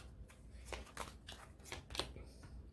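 Tarot cards shuffled and handled during a reading, giving a series of soft papery riffling bursts and flicks across the moment, close and fairly quiet with no talk over them.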